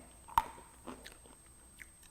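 A crisp dried apple and nut snack bitten once with a sharp crunch, followed by a few softer chewing crunches close up in an otherwise quiet room, with no talking.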